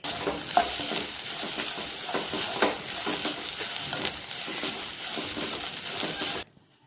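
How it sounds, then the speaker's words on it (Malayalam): Grated coconut being stirred and roasted in a hot pan, with continuous scraping and a soft crackle, close by, ending abruptly in silence. "തേങ്ങ വറുത്ത് വെച്ചാൽ"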